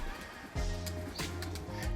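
Domestic pigeons coo softly in low, repeated calls against a noisy background.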